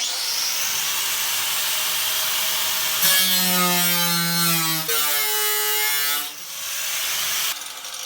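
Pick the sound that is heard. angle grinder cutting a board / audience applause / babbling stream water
angle grinder cutting a board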